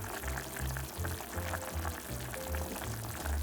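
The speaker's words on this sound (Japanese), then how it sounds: "お醤油入れます。" Soy sauce poured into a pot of simmering new potatoes, a steady liquid trickle over a low bubbling, sizzling simmer, close and fairly quiet.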